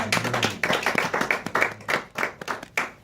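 A church congregation clapping together in a brisk, fairly even rhythm, close and lively, lasting a few seconds.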